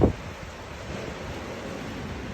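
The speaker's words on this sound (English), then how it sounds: "this band right here is way windier, so I'm sure we got a higher gust out of that" Strong storm wind gusting in Pennsylvania, a steady broadband roar with rumbling buffeting that opens with a louder blast, continuous and close, with no voices.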